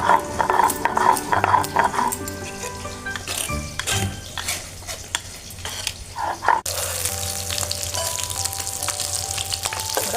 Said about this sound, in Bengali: মশলা করতে করতে আমার এদিকে বাকি মাছগুলো ভাজা হয়ে যাবে।